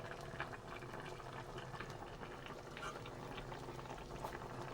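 Fish curry bubbling at a steady boil in a pot on the stove, a constant close wash of popping bubbles with no talk.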